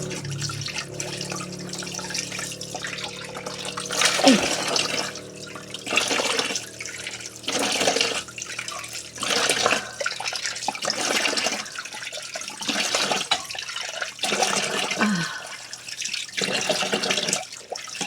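Water runs from a tap while a face is rinsed, splashing in uneven bursts of hand scoops and drips over a steady flow for a long stretch, close and fairly loud, with no speech.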